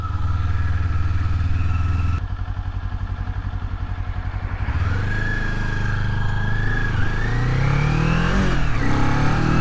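A close 2022 Kawasaki Z400 motorcycle engine idles with a throbbing beat, then revs up and climbs through rising pitch as it shifts, ending louder, on rocky ground.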